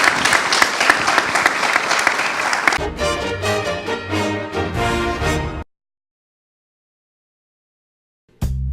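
An audience at a theatre event bursts into sustained applause that gives way to music, then the sound cuts to silence before another brief burst near the end.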